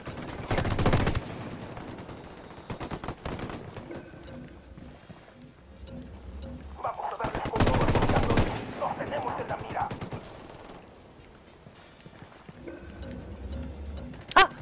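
Rebel gunfire in Ghost Recon Wildlands comes in loud, dense rattling bursts separated by quieter stretches of game ambience, with one sharp crack near the end.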